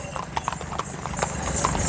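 Horses of Nihang Sikh troops clip-clop in a steady, brisk rhythm, fairly close, with a faint murmur of background noise.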